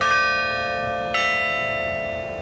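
A large church-style bell strikes, its long ringing tone sustained with a second clear stroke midway, loud and alone with no voices.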